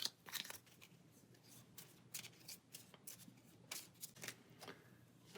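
Cards from the Pathfinder Adventure Card Game are shuffled by hand back into a deck, a quiet series of crisp riffling bursts and soft slaps, close up with no talking.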